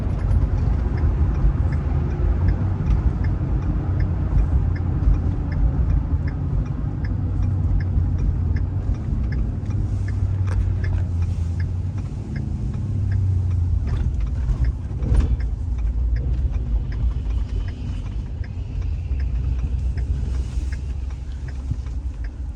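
A car driving around an auction site in Baldwin, Iowa, heard from inside as a steady low engine and road rumble with a faint regular ticking, likely from a turn signal, and occasional light knocks.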